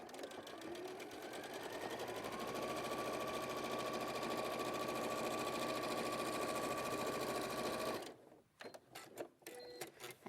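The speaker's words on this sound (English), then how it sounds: "And then sew another line, about 4 millimeters from with the seam line." A sewing machine stitches a line along a fabric seam, running in a steady, close, fast whirring hum for about eight seconds before stopping, followed by a few sharp clicks and handling knocks.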